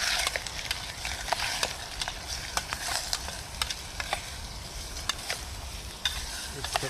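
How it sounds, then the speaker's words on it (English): Meat browning in a pan over a red-hot campfire in sub-zero weather, a continuous close sizzle with repeated sharp scrapes and taps as pieces are turned. "all I'm doing is I'm just quickly browning off this meat"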